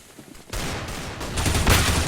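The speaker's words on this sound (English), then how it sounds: "it looks like they're firing onto the site" Rapid gunfire bursts in a Counter-Strike match on the Inferno map, several weapons firing together at close range, loud and continuous after a quiet start, with no talk.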